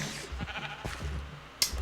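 A sheep bleats in a video game, a few wavering low calls close by, followed by a sharp click at the end, with no talking.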